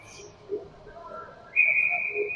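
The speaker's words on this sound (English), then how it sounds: "Whistle blows, play gets resumed." A sharp, steady referee whistle blast sounds for about a second at a U12 youth game, cutting in after quiet background murmur.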